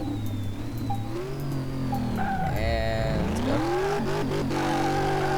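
Engine roar of a Dodge Hellcat in Car Mechanic Simulator 2018, revving hard and dipping then climbing in pitch as the tires spin in third gear, loud and continuous throughout.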